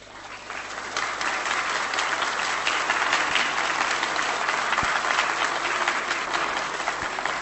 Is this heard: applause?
yes